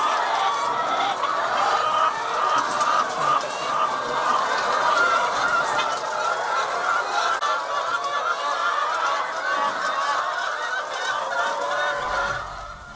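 Laying hens in a crowded poultry house cluck and squawk without pause. The sound is a dense, loud chorus of many birds, close by and steady throughout.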